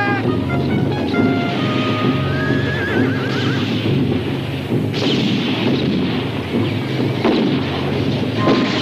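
Heavy cannon booms burst out a few times amid a noisy battle din, with horses whinnying and neighing throughout.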